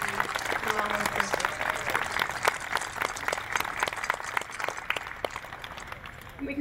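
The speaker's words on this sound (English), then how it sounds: "Give her another round of applause." Audience applause fills a live community show band concert, a steady dense patter of many hands clapping close and loud throughout with occasional sharper individual claps.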